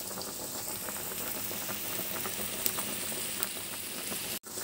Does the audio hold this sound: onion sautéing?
yes